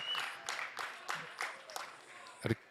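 Sparse, distant applause from a rugby crowd greeting a substituted player at a Serie A match between Verona Rugby and Rugby Casale, a few scattered claps with a commentator speaking over them.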